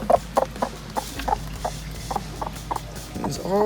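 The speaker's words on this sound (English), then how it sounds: "One of the chickens is getting broody again." A broody hen clucks repeatedly in short, evenly spaced low clucks close by, with a low background hum and a rising squawk at the end.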